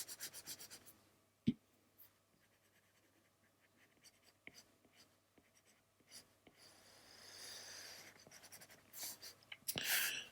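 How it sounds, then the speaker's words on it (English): An eraser rubs out pencil lines on drawing paper during a cartoon face sketch: faint, scattered strokes at first, then a denser, louder burst of rubbing near the end. "Let's take our eraser"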